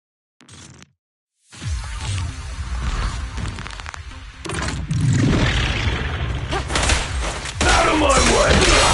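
Dense gunfire from dual guns in the video game Zenless Zone Zero rattles and booms in heavy, loud layered bursts after a brief quiet start, with a voice heard briefly.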